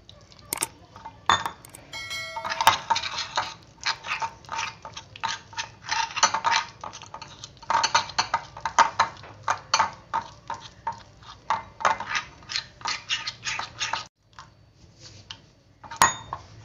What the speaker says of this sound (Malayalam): ഇനി നമുക്കിതിനകത്തേക്ക് കുറച്ച് വെള്ളമൊഴിച്ചിട്ട് ഇതൊന്ന് മിക്സാക്കി എടുക്കാം